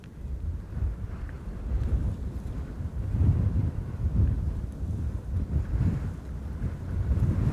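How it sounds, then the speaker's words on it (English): Strong wind gusting across the Polderbaan runway at Amsterdam Schiphol airport, a loud, low, buffeting roar of rumbling microphone wind noise that swells and surges throughout, with no voices. "Wind has begun to pick up significantly over the last half hour."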